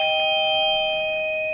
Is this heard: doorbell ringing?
yes